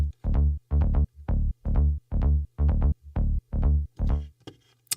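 A sub bass synth from a Spire preset inspired by Moog pulses in short, evenly spaced notes, nine or so punchy low hits with clear gaps, sounding alone and close before trailing off.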